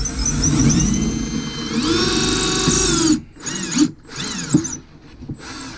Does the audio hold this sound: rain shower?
no